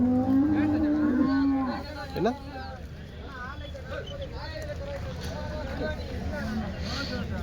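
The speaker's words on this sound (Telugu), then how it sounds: "ఇది కానీ ఆవు దూడ" Cows at a Sunday cattle market moo loudly nearby, with one long low moo at the start. Crowd chatter and a steady market din carry on underneath.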